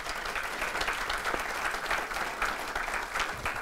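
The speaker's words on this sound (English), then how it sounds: "So please, everybody, just give our alumni a round of applause." An audience gives a round of applause at an alumni recognition ceremony. The clapping is steady and dense and lasts the whole time, from a crowd a little way off, with no voices over it.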